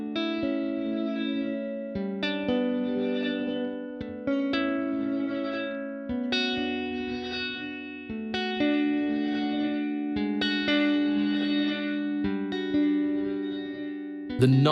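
Sustained electric guitar chords ringing through a heavy, washy Nonlinear reverb effect on a Line 6 Helix, played in repeated phrases with brief gaps between them.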